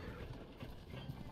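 Horse hooves pulling a cart in the video game ARK Survival Evolved, a quiet, busy clatter of hoofbeats under a low, muffled rumble, brief and fairly faint.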